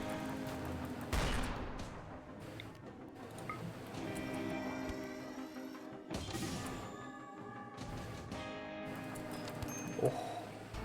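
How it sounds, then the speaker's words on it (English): Sniper gunfire in a video game comes as a few sharp, spaced shots and cracks, with echoing tails over steady game background sound. "Getting fucking sniped."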